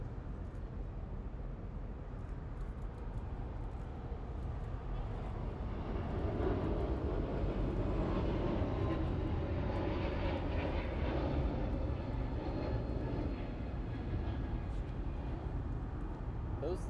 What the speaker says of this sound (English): Here goes that Hawaiian A321neo taking off here.